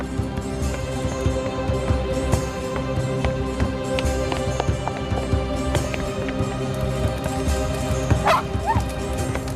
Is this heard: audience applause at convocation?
no